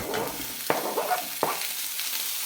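Pork stir-frying with onions in a pan with low-calorie oil gives a close, steady sizzle broken by two sharp knocks of a utensil against the pan and soft scraping in between; no speech.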